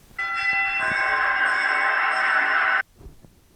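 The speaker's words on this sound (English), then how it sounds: "What the fuck was up with that bell?" Wrestling match bell ringing with one sustained metallic tone that holds steadily for about two and a half seconds, then cuts off into quiet room noise.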